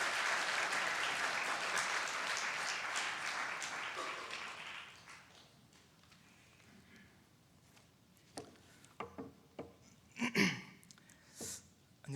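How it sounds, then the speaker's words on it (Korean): An audience at a Friday church gathering applauds to welcome a young man to the front. Dense clapping fades out over several seconds, then a few scattered claps, breaths and faint voices follow. "우리 나올 때 큰 박수로 환영해 주시면 좋겠습니다"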